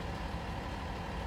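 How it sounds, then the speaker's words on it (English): A big truck idling close by gives a constant, dense low rumble with broadband noise, steady and unbroken with no talk over it. "I'm sorry about that noise. It's a big truck next to me."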